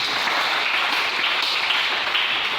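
A church congregation applauds together in sustained, dense clapping that fills the room evenly from start to finish, with no voices standing out.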